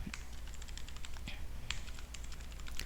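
Quick, light keystrokes on a computer keyboard while entering data into an Excel sheet, close and soft, in irregular bursts with no talking.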